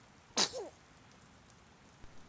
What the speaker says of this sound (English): Mr. Nolan lets out an almighty sneeze